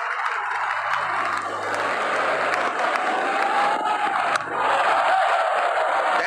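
A stadium crowd at a Pakistan vs Sri Lanka one-day international cricket match, roaring and cheering continuously, loud and dense throughout, with a distant sustained crowd swell and no clear talking on top.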